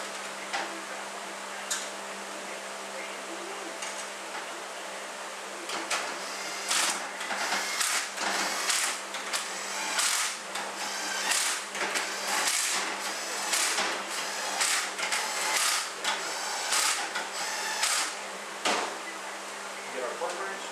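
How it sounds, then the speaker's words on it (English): A torque wrench clicks through a rapid series of sharp ratcheting ticks while tightening transmission bolts during a 4R75E overhaul, close and fairly loud over a steady background hum, with someone talking throughout. "Then we're going to torque it to 90 foot-pounds"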